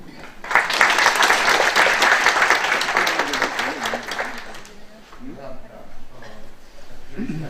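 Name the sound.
applause for introducing the speaker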